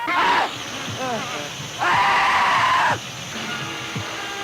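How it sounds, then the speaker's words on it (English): High-pitched screams from a 1960s horror film rise and fall in two loud bursts, one short and one sustained, with strained voices and noise underneath. "Listen to those screams. They're eating him alive."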